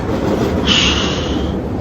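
A train passing in the background behind a garden setting, heard as a steady broadband rumble with a brief high metallic wheel squeal in the middle, fairly loud and with no talk.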